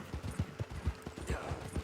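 Horse hooves clip-clopping at a steady trot while riding in the Red Dead Redemption 2 video game, a regular rhythm of soft close thuds under a faint ambient bed, no talk.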